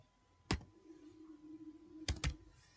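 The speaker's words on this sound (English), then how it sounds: "type the T code FBL3N" A few sharp computer keyboard key clicks, close and quiet: one tap, a pause with a faint steady hum, then a quick cluster of two or three keystrokes, no talking.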